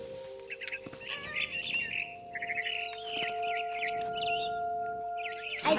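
A bird in the video game What Remains of Edith Finch chirps and trills repeatedly in quick, warbling bursts over a low steady hum, with occasional soft thumps.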